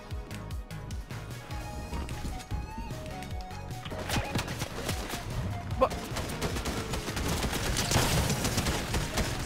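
Gunfire in the Fortnite video game, with dense, rapid bursts of shots and crashing impacts running throughout under a busy game soundscape, growing louder and more intense toward the end.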